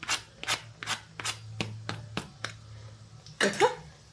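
Crispy, flaky moong dal kachori being pressed and broken by hand, a run of sharp dry cracks and crunches in quick succession, close and fairly quiet, ending with a louder crumbling burst.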